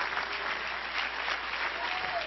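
A church congregation at an Apostolic preaching service claps hands together in sustained, dense applause, a loud, even crackle of many hands with a faint voice underneath.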